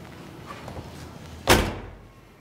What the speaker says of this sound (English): Doors shut great.